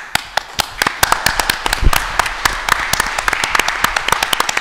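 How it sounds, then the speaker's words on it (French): Scattered, uneven handclaps from a modest crowd at a horse-racing breeders' federation general assembly, with sharp individual claps ringing out through a steady room murmur for several seconds. "Je pense que vous pouvez l'applaudir."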